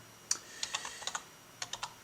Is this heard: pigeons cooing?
no